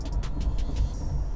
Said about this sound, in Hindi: गियर में चल रहे हैं और हार्ड एक्सीलरेट करके देखता हूँ